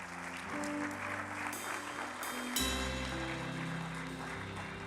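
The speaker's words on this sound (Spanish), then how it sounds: "Denle un aplauso al Señor." Church congregation applauding during a Spanish-language service, a soft bed of clapping mixed under sustained keyboard or organ music chords that shift throughout.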